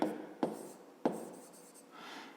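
A pen scratches across paper as a maths calculation is written out in a few quick strokes, with short sharp scrapes separated by brief pauses, close and fairly quiet.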